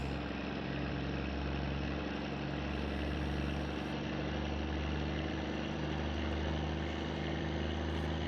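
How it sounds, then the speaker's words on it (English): A car engine runs steadily in the driving game My Summer Car, a loud continuous low hum and drone that holds level throughout with no speech over it. "I can barely hear the music over the sound of the engine."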